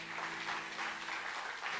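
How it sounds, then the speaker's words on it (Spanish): A church congregation clapping for God, a steady, dense patter of many hands heard from a distance in a large room, soft and brief. "dale un aplauso a Dios"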